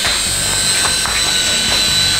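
A toy helicopter flies nearby with a loud, steady high-pitched whine and whirr of small motors and rotor, constant throughout the short moment without talk.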